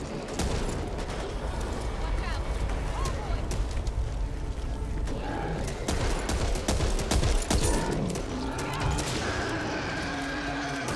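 A teammate's gunfire in the zombie shooter Back 4 Blood, with steady rapid shots and crashing impacts continuing throughout, loud and busy, with a voice talking over the action at times.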